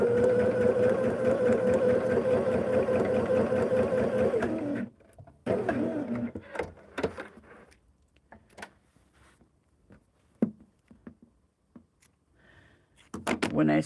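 A sewing machine stitches inner borders onto a quilt, a steady close whirring hum that runs for about five seconds and stops. Sparse clicks and handling noises follow.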